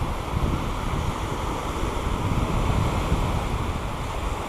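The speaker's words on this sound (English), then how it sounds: "they're not big waves, they're not big crashing waves." Small waves break steadily on Gorleston beach in Norfolk, a continuous close surf roar with wind rushing across the microphone.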